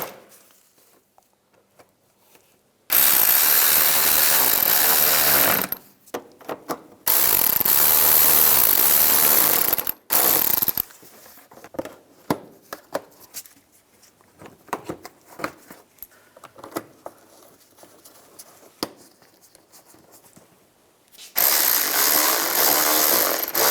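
A power driver tightening screws on the horn mount of a 2010-2017 Chevy Equinox, with several loud whirring bursts of a few seconds each, separated by quieter stretches of small clicks and handling noise.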